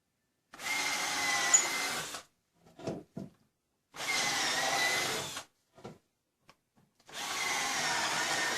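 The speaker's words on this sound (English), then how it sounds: "let me go ahead and start drilling the pilot holes" Power drill boring pilot holes into wooden greenhouse roof rafters for a splice, three sustained whirring bursts of about a second and a half each, separated by short clunks and handling knocks, close and fairly loud with no talk.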